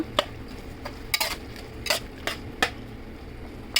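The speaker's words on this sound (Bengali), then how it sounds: "মশলাটার ভিতরে দিয়ে দিলাম একটা টমেটো দিয়ে আর একটু কষাবো" Spice paste with ginger-garlic and tomato being sautéed for chicken curry, with a utensil scraping and clinking against the pan in several sharp, irregular strokes over a faint sizzle.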